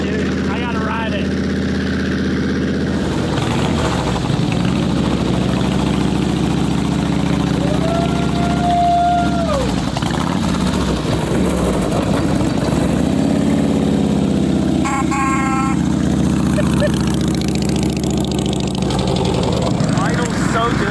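A 70-year-old Harley-Davidson motorcycle engine, neglected for years, idles steadily and close by with a low, even rumble throughout, while people talk briefly over it.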